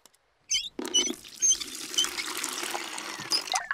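Water pours into a bucket in a cartoon scene, a close trickling splash that starts after a brief silence and runs on steadily with bright gurgling patter.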